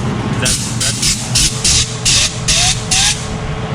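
A homemade nitrous system fires a test shot on a Ford Galaxie on a car dyno: loud, rhythmic bursts of hissing spray pulse about eight times over a running engine, with people talking through it.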